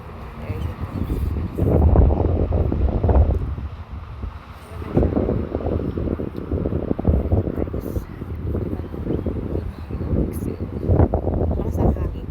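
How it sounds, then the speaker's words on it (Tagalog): Strong wind buffets the microphone in heavy low rumbling gusts, with a voice speaking under the roar. "Lakas ang hangin."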